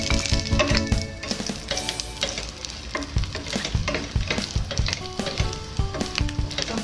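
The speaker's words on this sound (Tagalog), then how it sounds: "At iprito natin ng cake yam." Kikiam fish cakes fry in hot oil with a dense, continuous crackling sizzle, punctuated by clattering stirs and scrapes in the pan, close and loud, with no voices.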